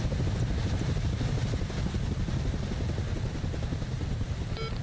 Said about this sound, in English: Every match I play, they leave just enough room to land the fucking helicopter.